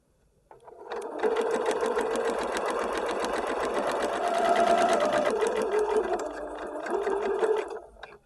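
A sewing machine stitching a straight seam with a magnetic seam guide, running at a steady, close, fairly loud whir for about seven seconds after a brief start, then stopping.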